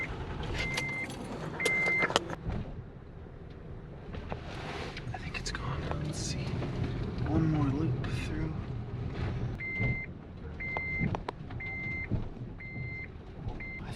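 A 2011 Honda Odyssey minivan on a test drive after front-end repair work, heard from inside as a steady road and engine rumble, with short electronic beeps at intervals and faint low voices.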